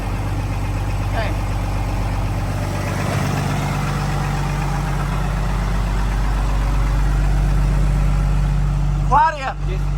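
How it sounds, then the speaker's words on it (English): A boat's starboard engine idles with a steady, loud low rumble, joined by muffled voices near the end. "You can go ahead and shut off the starboard engine."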